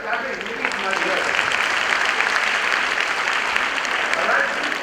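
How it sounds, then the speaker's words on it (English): An audience at a young-minds programme address bursts into sustained applause, dense clapping from many hands filling the hall evenly for several seconds. "I can't hear you clapping."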